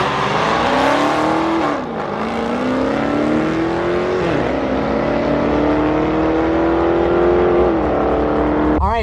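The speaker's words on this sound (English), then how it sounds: "Here's a race, a Hellcat versus a TRX. Hellcat versus Hellcat." Drag-race car engines, a Dodge Hellcat against a Ram TRX, roaring loud and continuous with rising revving pitch sweeps through gear changes, a brief dip near two seconds, no talk.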